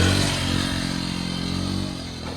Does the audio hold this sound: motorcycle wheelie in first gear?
yes